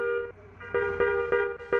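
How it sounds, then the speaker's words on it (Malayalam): A bus horn in the Bus Simulator Indonesia driving game, on a highway, sounds in a series of short, loud, bright toots with brief gaps between them. "ഹോൺ അടിക്കാൻ ചെറുതായിട്ടൊക്കെ"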